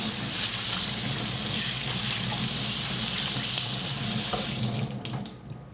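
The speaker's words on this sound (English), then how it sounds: "wash your hands" Hands being washed under a running kitchen tap in a home cooking setting, a steady close rush of water that carries on for about five seconds before cutting off at the end.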